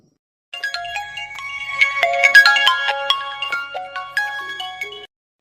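A mobile phone ringtone plays a bright, busy electronic melody of rapid stepped tones, loud and close, ringing continuously for about five seconds with no talk over it.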